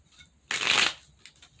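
A deck of cards is riffle shuffled once in a close, loud burst of rapid flicking that lasts about half a second, followed by faint handling taps.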